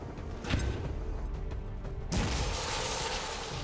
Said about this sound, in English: I can launch a frost bomb here.